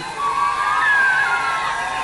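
A crowd at a Kenyan health event cheers and applauds loudly, with a sustained roar and a high ululating whoop rising over it.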